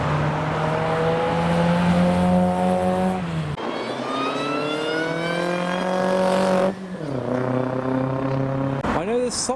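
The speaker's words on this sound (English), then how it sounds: "I have spied a Hillman Imp on its way down." A Hillman Imp drives past at a car show with an engine note rising and falling through several gear changes as it approaches and passes close by, a voice speaking faintly over the engine.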